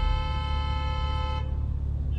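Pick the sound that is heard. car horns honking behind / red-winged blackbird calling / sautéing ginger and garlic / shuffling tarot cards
car horns honking behind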